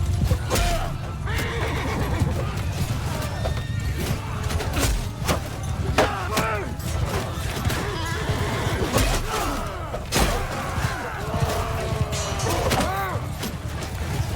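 Horses in a Mount & Blade 2: Bannerlord battle give repeated loud whinnies and neighs over thudding hoofbeats and continuous combat din.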